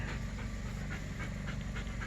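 A young puppy pants quickly and steadily, close to the microphone, while it plays with a pile of balls. The rhythmic breathing goes on without a break for about two seconds.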